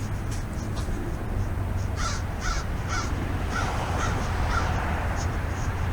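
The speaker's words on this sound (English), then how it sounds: "I have this psychic link with crows and ravens" Repeated harsh crow caws ring out outdoors on a calm walk, a run of about five calls spaced evenly over steady background noise, fairly close and clear.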